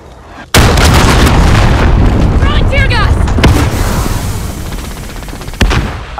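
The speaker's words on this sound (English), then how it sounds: "Enemy cruise missile incoming." A cruise missile strike in Call of Duty Modern Warfare multiplayer: a sudden loud blast followed by a long rumbling roar, with sharp gunfire cracks and another explosive hit near the end.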